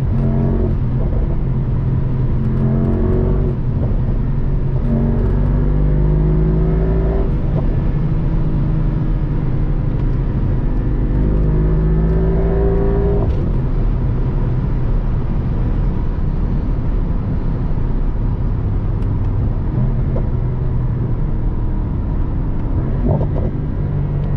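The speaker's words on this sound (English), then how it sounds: "I think the car is a bit louder when in Sport Plus," A 585 hp Mercedes-AMG SL63 engine in Sport Plus mode rumbles and revs steadily up close, rising and falling through gear changes over a long, loud stretch of driving.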